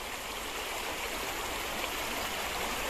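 Clear river water flows steadily beneath a bridge in a shallow stream, a continuous close rushing and gurgling wash with no voices over it.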